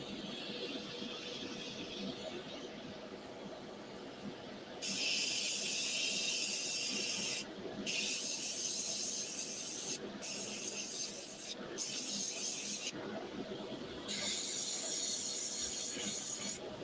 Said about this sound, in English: It works really well with an airbrush to just get those layers on nice and quick